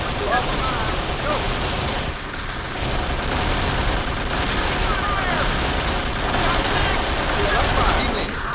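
Sustained gunfire and explosions from an Xbox combat video game, a dense continuous barrage throughout with shouted voices over the noise.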